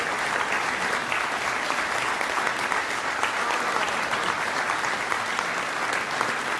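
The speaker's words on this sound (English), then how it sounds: "We're still getting a lot of applause, Jeff." Sustained applause from a large audience, dense and steady clapping throughout with no breaks.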